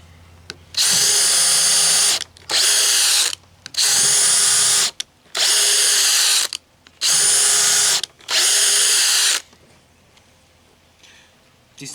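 A DeWalt Xtreme 12-volt subcompact cordless drill with a small bit whirs in six short bursts of a second or so each, with brief pauses between, loud and close, then quiet.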